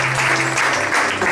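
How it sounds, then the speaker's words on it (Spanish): A church congregation at a Spanish-language worship service breaks into a short burst of dense clapping over a steady low hum. "Denle un fuerte aplauso al Creador del universo."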